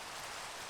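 Steady rain falling in Minecraft, a continuous broadband hiss with no gaps, moderately quiet and heard alone without any voices over it.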